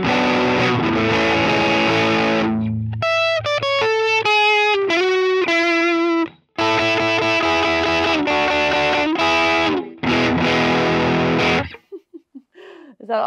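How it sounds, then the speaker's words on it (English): Electric guitar through an Ibanez TS808 Tube Screamer overdrive model on a Line 6 POD Express, loud driven chords and riffs with sustained overdriven tones, brief gaps, then a few fading picked notes at the end. "That's based on the Ibanez TS808 Tube Screamer."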